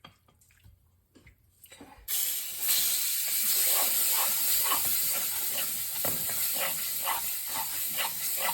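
A tomato mixture sizzles and hisses as it is stirred into a browned roux for homemade tomato soup. A sudden loud, steady hiss starts after a quiet opening and continues close-up, with faint stirring scrapes and no voices.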